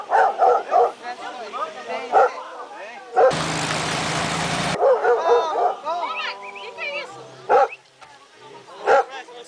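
Dogs bark in short, repeated bursts close by while people talk, with a brief loud engine roar in the middle.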